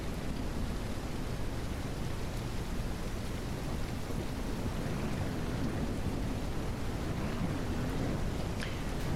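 Steady heavy rain with rolling thunder during a night drive in Ranch Simulator, a dense continuous hiss with low rumbling swells and a faint sharp crack near the end, no voices.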